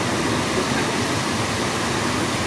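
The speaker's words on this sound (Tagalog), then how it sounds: "Malakas ng agos" A strong river current rushes near a cave, giving a loud, steady roar of water that fills the whole clip without any talk.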